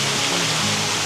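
Small waterfall beside a bike trail along a river, a steady broadband rush of falling water, close and fairly loud, constant throughout with no voices.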